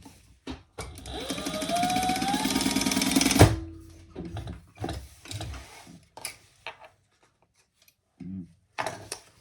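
A sewing machine stitches darts into a diaper backpack in one steady, loud run of about two seconds, then stops; scattered handling clicks and brief fabric shuffling follow.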